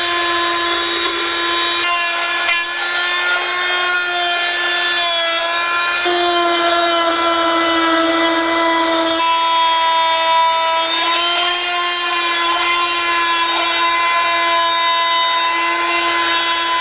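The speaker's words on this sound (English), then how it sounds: "I remembered I have a multi-tool and they make scrapers. Turns out this is a pretty slick way of going about it" Oscillating multi-tool fitted with a scraper blade stripping thick undercoating off a Land Rover Series chassis, a loud, steady high-pitched buzzing whine running continuously with slight pitch shifts as the blade bites and slides.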